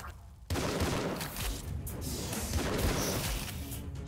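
A shotgun fires in the Tesla vs Lovecraft video game. A loud blast comes in abruptly and is followed by continuous, dense gunfire, crashes and impacts.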